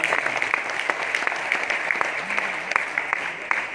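Audience applause at a Modi Care testimonial gathering: steady, dense clapping from a crowd that keeps up throughout at an even level, with no talking over it.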